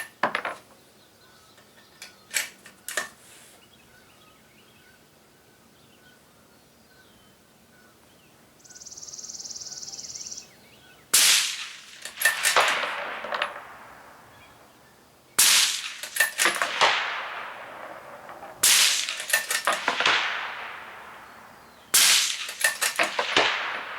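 Rifle shots from a Short Action Customs .260 Remington striking steel targets all set at the same distance, heard as several loud sharp cracks spaced a few seconds apart, each trailed by a ringing decay, with quieter clicks and handling noise between them.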